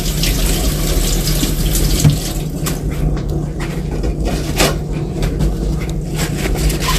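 A kitchen faucet runs steadily into a sink during dishwashing, a continuous close splashing hiss with occasional clinks and scrapes of dishes.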